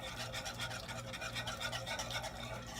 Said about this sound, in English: You just want to stir in the cheese.